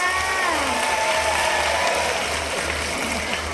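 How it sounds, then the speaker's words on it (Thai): A crowd outside a district office applauds at a Thai singing contest, the clapping dense and continuous, with a low rhythmic hum pulsing underneath throughout. "ขอเสียงปรบมือ ให้คนเมืองการดังๆเลยจ้า"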